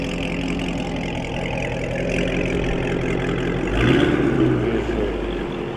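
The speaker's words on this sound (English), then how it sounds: "Y'all heard that thing downshifting." A Dodge widebody Scat Pack engine rumbles steadily nearby with a low idle-like drone, swelling briefly near the middle as if shifting gears, with no talk.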